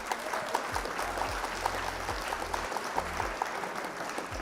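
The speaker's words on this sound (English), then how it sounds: "Round of applause for our coach." Applause from a crowd honoring their coach at a Flesh & Blood card game event, a steady wash of clapping lasting several seconds with a low hum underneath.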